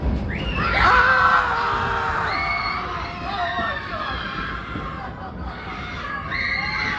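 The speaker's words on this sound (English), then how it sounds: "So, folks, go ahead and start screaming." Passengers on the Six Flags Railroad train shriek and yell together inside a tunnel, a loud crowd of mixed adult and child screams rising and falling continuously.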